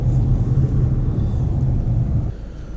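2016 Mercedes A200 diesel engine while driving, heard from inside the cabin as a low, smooth, steady rumble with road noise that drops slightly in level near the end.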